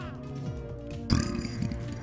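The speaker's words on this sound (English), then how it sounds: "It was a meatball belch." A single loud, gurgling human belch after eating meatballs erupts suddenly about halfway through, preceded by a quieter stretch and close to the microphone.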